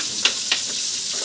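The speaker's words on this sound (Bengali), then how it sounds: "মাছ ভাজার" Fish sizzles in hot oil in a home kitchen with a continuous crackling hiss, broken by two short, sharper spatters near the start.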